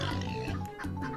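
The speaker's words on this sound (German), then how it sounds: "Böses Schweinchen." A pig oinking in the video game Turnip Boy Commits Tax Evasion, a short run of nasal grunts in quick succession, close and clear with no speech over it.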